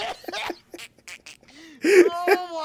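Cartoonish duck quacks from a video game sound close and clear, several short nasal calls in quick succession with brief gaps, standing alone without talk.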